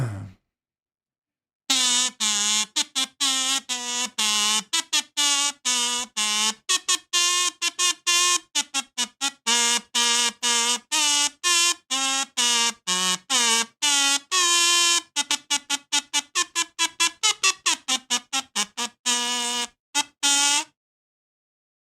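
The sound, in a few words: kazoo salute played on a kazoo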